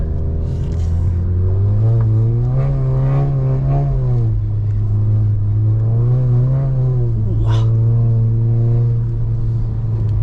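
A manual Volkswagen Golf 7 R drives on snow, its engine droning steadily from inside the cabin and rising and falling in pitch through gear changes, loud and continuous with no talking.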